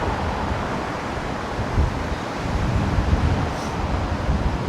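Strong wind buffeting a microphone on a windy morning in Melbourne, a continuous low roaring rumble with gusty swells that rise and fall throughout, no voices.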